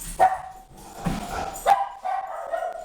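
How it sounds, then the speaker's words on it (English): Several loud barks from a nearby dog in an uneven rhythm, with short whiny tails trailing off between them. "Don't mind, that's just Brownie barking."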